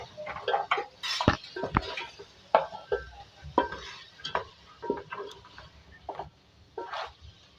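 Beef and tinda being stirred and mixed in a pot with spices: irregular scraping clatters of a spoon against the metal pot over a soft sizzle, close up and without speech.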